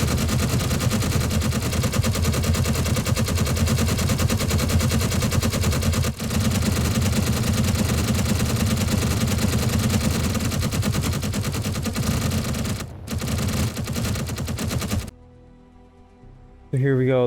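Rapid automatic weapon fire while shooting aliens in Space Engineers, a loud, dense, continuous barrage that keeps up for about fifteen seconds before breaking off into near-quiet.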